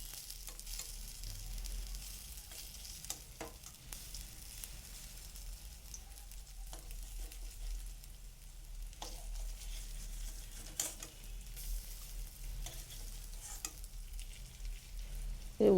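Cauliflower pieces fry in a pan for a cauliflower and lentil dish, giving a steady close sizzle with soft stirring and pattering pops throughout, and no voices.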